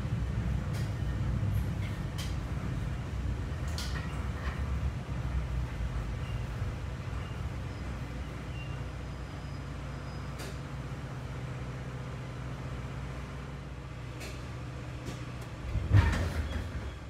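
A Metra BNSF express commuter train pulls out of the station after a short stop, heard from inside as a steady low rumble and hum with faint rail clicks and a brief louder knock near the end.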